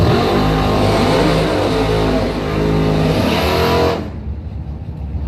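Drag racing cars roar at full throttle down a bracket strip toward the finish line, a loud continuous engine blast that cuts off abruptly near the end, leaving quieter track ambience.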